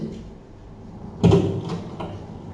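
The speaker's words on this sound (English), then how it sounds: "After about 5 minutes, the door finally opened" A hotel door opening: one solid clunk rises from a quiet room, followed by a couple of lighter knocks and rattles as it swings.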